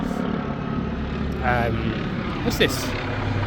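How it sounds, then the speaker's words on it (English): A helicopter drones over a London park, a steady low rotor and engine rumble that holds through the whole stretch while someone speaks briefly over it. "Helicopter."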